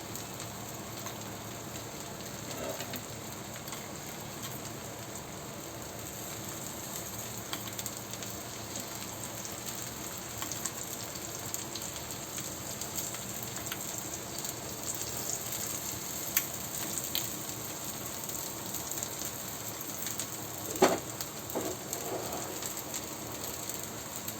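Oil sizzling steadily in a pan while a rice flour dosa fries, a soft continuous crackle with a few brief clinks partway through, no talk.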